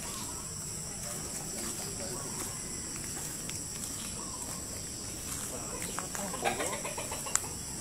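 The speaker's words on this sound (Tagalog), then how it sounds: "Dami manok." Chickens cluck faintly in the background of a rural yard with rambutan and banana trees, their calls scattered and soft beneath a steady hiss of insects and occasional distant voices.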